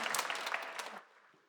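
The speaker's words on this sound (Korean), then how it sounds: "우리 박수로 환영합니다" A church congregation claps in welcome during a Sunday worship service, a short burst of dense applause that fades out within a second.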